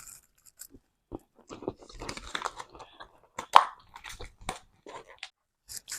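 Someone bites into and chews a freshly opened packaged snack during a taste test, with a few sparse crunches and soft plops at close range and no talk.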